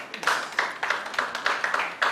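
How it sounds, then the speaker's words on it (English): Audience at a business seminar clapping in a steady, rhythmic beat, sharp bursts repeating about every third of a second, fairly close and clear. "Is a round of applause for Mr. Sheye."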